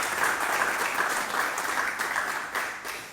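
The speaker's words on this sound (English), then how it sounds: "truly a big round of applause for DA Copeland" Audience applause fills a community talk on animal welfare and cruelty issues at a university event, a dense, steady wash of clapping from a sizeable crowd that stays loud throughout and eases slightly near the end.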